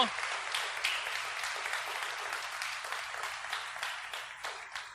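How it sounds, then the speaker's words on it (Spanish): A church congregation applauds to welcome a first-time visitor, a steady, fairly dense round of clapping heard from within the room that carries on evenly throughout with no talk over it. "vamos a darle un aplauso también a nuestra hermana, amiga"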